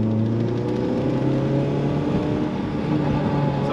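A Honda Civic with a swapped G23 VTEC engine runs steadily with a droning engine note and rising harmonic tones as RPM builds, loud and close, with no talking over it.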